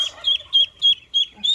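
Chickens clucking close by on a porch, a run of five or six short, bright clucks in a loose, even rhythm with no talk over them.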